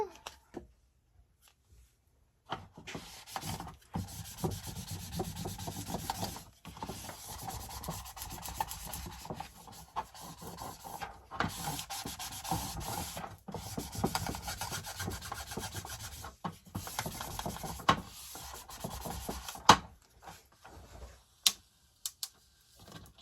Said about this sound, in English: So let me go ahead and burnish this down.